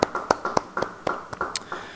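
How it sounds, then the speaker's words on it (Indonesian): Scattered hand claps from a small church audience at a Bible study session, about a dozen sharp separate claps in an uneven rhythm, close and moderately loud with no talking over them. "Beri tepuk tangan bagi dia."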